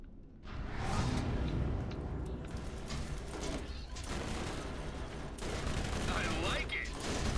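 Dense, continuous automatic fire from turrets in Borderlands, a steady rattling barrage with whooshes layered over it, while a voice talks now and then over the noise.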